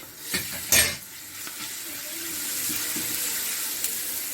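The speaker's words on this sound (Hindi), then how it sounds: "इसको 1-2 मिनट भूनेंगे।" Garlic ginger paste frying in a pot, a continuous close sizzle with a couple of sharp spoon clacks and stirring scrapes early on, then an even hiss.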